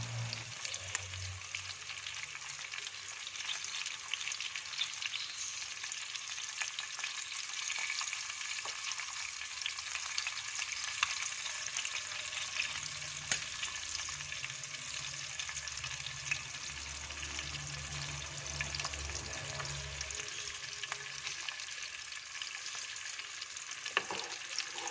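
Jumbo tiger prawns, skewered on sticks, fry in a pan of hot oil with a steady, dense sizzle and crackle that holds evenly throughout at moderate loudness, with no talking.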